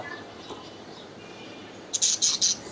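Pet cockatiel giving a short burst of high, sharp chirping calls near the end after quiet room tone, close and fairly loud.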